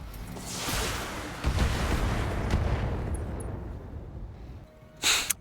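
Heavy mech weapons firing in the BattleTech video game, a loud rumbling blast that swells and then slowly decays, followed by a sharp burst near the end, with no talk.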